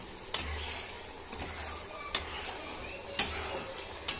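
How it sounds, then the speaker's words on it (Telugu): A ladle stirs tamarind and chili chutney in a pan, giving four separate scraping strokes spread over a few seconds above a faint, steady sizzle. "వేసుకున్నాక మళ్ళీ గరిటె సహాయంతో ఈ రకంగా కలపాలి."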